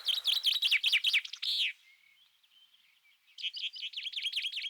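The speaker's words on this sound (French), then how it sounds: "Un pinson vient de chanter." A chaffinch sings nearby in a forest, a rapid run of bright descending trills, then a brief quieter lull of thin notes before another lively phrase bursts in, clear and without talk.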